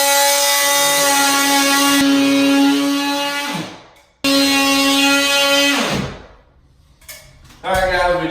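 A power saw cuts through a ceiling to open a hole for a Werner compact attic ladder, a steady loud whine running for several seconds, stopping briefly, then resuming before winding down.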